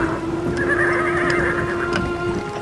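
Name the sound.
horse neighing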